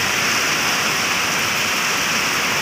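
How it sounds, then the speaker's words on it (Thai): Heavy rain pours at a floodgate in Rangsit, a dense, continuous hiss of downpour filling the whole stretch with no letup and no voices. "ฝนตกหนักเลยครับ"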